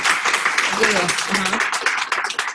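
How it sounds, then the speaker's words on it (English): An audience at a D3.js talk breaks into applause, loud and close, a continuous patter of clapping with a voice speaking briefly over it. "round of applause"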